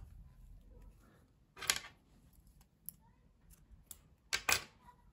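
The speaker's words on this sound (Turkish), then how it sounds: "Pembe renkli ipliği kesiyorum burada." Scissors snip pink yarn during crochet work, giving two or three short, crisp clicks spaced a few seconds apart against a quiet background.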